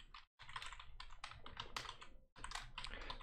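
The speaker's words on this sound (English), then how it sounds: "You just want to be in desktop and just write here roblox.com" Someone types a web address on a computer keyboard, producing rapid, close, crisp key clicks in quick runs broken by two brief pauses, with no voices.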